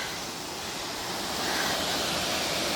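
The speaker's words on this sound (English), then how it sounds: "This is Drake Falls." Small waterfall at Drake Falls in Silver Falls, a steady broadband rush of falling water heard alone, growing slightly louder partway through.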